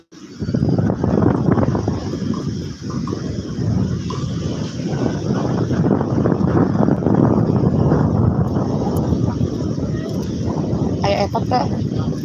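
Strong wind on Pangandaran beach blusters steadily against the microphone in a loud, continuous roar of low rumble and hiss, with faint talk underneath.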